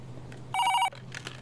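A telephone bell rings in a Kannada film scene, one loud, close burst of about a third of a second standing alone against a quiet room.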